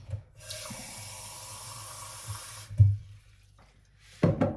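Water runs from a kitchen tap for a couple of seconds, a steady close hiss that stops abruptly, followed by a quiet pause and then two sharp knocks of handling noise.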